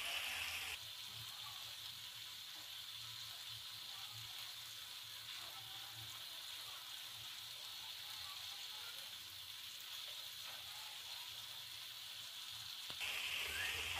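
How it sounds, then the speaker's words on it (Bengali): Chicken shashlik pieces fry in their own released oil, giving a steady, even sizzle that runs unbroken throughout, close and fairly quiet, with no talking. "এভাবে আমি ঘুরিয়ে ফিরিয়ে সব মিলিয়ে 10 থেকে 15 মিনিট ফ্রাই করে নিব।"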